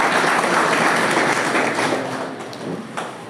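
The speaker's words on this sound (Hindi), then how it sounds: "इनके लिए भी जोरदार तालियों से स्वागत किया जाए" Continuous crowd clapping at a one-day CSC digital services workshop in Banka greets an operator, a dense roomful of hands with occasional taps and thuds, fairly loud and steady.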